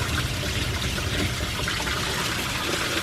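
Old, brown coolant from the cooling system of a 43-year-old BMW E12 5 Series drains out in a steady, loud splashing stream of liquid for several seconds, with no talk over it.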